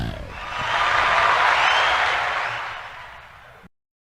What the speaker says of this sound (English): we got a crowd here today